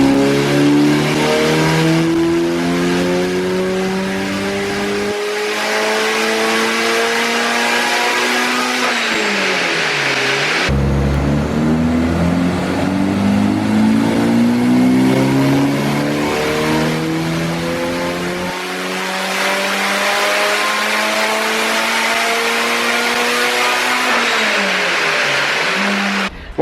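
A loud tuned Mitsubishi Evo 7 engine revs hard and steadily, pitch climbing and dropping in two long pulls, with no voices.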